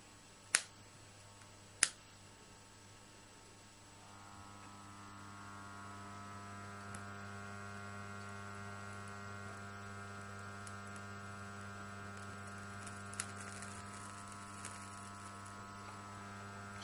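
Low mains hum from a transformer on a DIY high-current DC power supply, swelling steadily louder and richer as a variac is turned up, with a couple of sharp clicks near the start.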